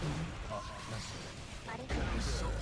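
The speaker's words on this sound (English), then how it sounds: "Explosion catching there." An explosion sound effect from a Guilty Gear Strive fighting-game match bursts in suddenly near the end, a heavy low boom rising over a busy bed of game sounds.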